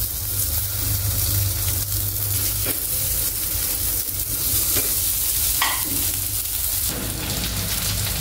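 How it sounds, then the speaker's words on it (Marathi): Tikki patties shallow fry in a pan with a loud, constant sizzle, broken by a few scrapes and light taps of a utensil, with no talking. "आता त्याचप्रमाणे आपण बाकीचे पण फ्राय करून घेऊयात"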